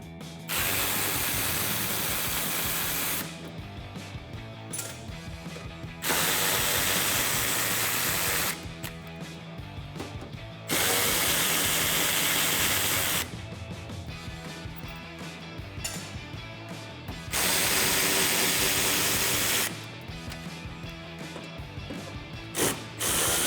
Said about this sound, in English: Grab an 8mm socket and a ratchet